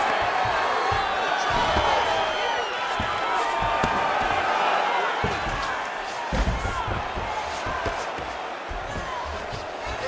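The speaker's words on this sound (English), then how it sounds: "Huge response from the crowd." A crowd roars and cheers throughout a women's mixed martial arts bout in EA Sports UFC 5, a dense sustained swell of voices with thuds and slaps of the fight, while commentators talk over it.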